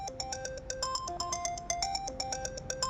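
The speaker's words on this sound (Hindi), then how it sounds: "देख किसका फोन आ गया है।" A phone ringtone plays alone, a bright repeating electronic melody of quick chiming notes, moderately quiet and steady for a few seconds.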